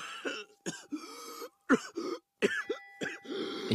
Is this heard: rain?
no